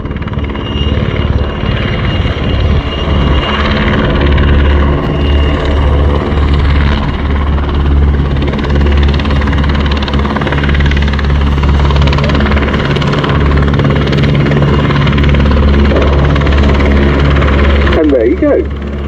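A Czech Sokol helicopter hovers loudly and close during a winch hoist at the RIAT 2025 airshow, its deep rotor thump and engine whine steady throughout, with a voice talking over it.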